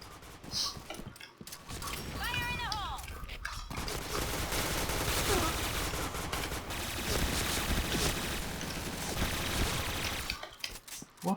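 Rapid gunfire from AUG and Kiss guns in the Point Blank shooting game, dense bursts of shots filling most of the stretch at moderate level, with brief pauses near the start and end.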